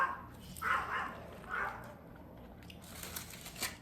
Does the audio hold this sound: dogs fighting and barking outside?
yes